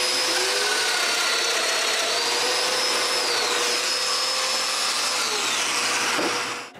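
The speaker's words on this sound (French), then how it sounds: "Et je perce les mortaises." Power tool whine, likely a domino joiner cutting mortises in live edge wood for a fireplace mantel top, a continuous loud close motor drone with shifting pitch that cuts off near the end, no speech.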